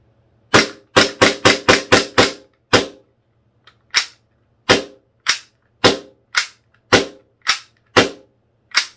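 A WE DP17 green gas blowback airsoft pistol fires sharp, snappy shots, first in a fast string of six, then more spaced single shots with brief pauses between.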